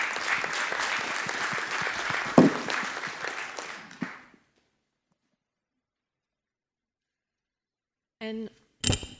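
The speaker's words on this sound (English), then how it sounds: "Big round of applause." Applause from a conference audience at an airspace and operational efficiency session, a fairly loud burst of many hands lasting about four seconds before cutting off, followed by silence and a few brief clicks and a short voice.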